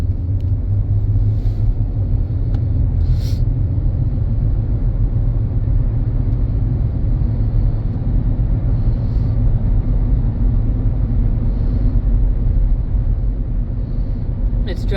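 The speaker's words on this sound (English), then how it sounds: "I think the tires have a little bit of noise to them" Steady low road rumble and tire roar from inside a 2017 Nissan Rogue cruising along, loud and continuous for the whole stretch, with occasional faint clicks and no clear talk.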